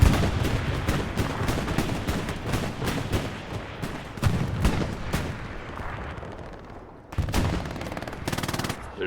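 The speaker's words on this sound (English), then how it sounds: "They're shelling HE at the moment" HE artillery shelling in the WWII video game Hell Let Loose, a steady barrage of sharp blasts and rapid firing going on without pause, with a brief lull before more loud impacts.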